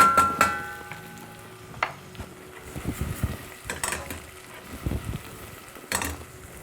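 Ginger and garlic fry in a hot pot for pilau, with clattering utensil stirs and scrapes over a low sizzle, quite close.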